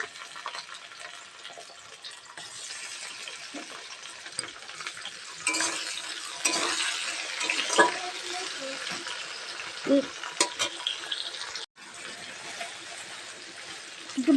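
Chopped tomato pieces frying in a pan, a steady hiss of sizzling oil with occasional stirring scrapes and soft clinks, close and moderately loud throughout, with a brief dropout near the end.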